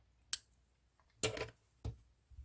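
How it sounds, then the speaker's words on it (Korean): Scissors cutting crochet yarn with a few sharp, quiet snips spaced apart, close up in a quiet room. "그리고 이제 믹스되었던 진한 색깔 실은 여기서 잘라주세요."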